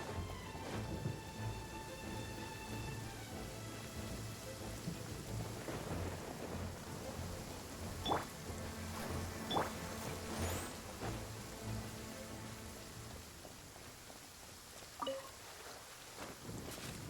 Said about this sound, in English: Ooh, it looks like it's starting to rain now.